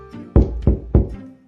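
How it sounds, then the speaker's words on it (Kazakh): Three firm, evenly spaced knocks land on a door in an animated cartoon scene, each a loud, close, hollow thud that ends cleanly, with nothing else heard. "Есікті аш, Кэтнап."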